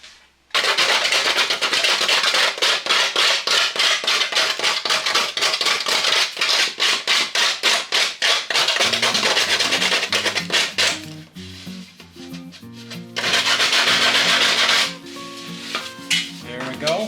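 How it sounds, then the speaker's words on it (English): Sandpaper rubbed by hand over a wooden log birdhouse, loud rapid back-and-forth scratchy strokes in a steady rhythm, close by, with a few pauses and some background tones in the later part. "I'm going to get a little sandpaper."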